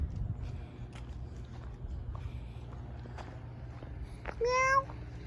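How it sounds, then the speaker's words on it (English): A cat meows once, loud and close, a brief rising-falling cry standing out near the end against steady outdoor background noise on a nature trail with an oak tree. "There's a cat right there."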